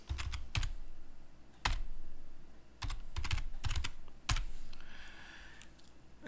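Keys clack on a computer keyboard while a command is typed into a Linux terminal, with quick clustered clicks in irregular bursts separated by short pauses, close and fairly quiet.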